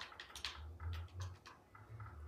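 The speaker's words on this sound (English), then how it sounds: "I don't type very fast at all" Quiet typing on a computer keyboard: a slow, uneven run of soft key clicks over a low background hum, with short pauses between bursts.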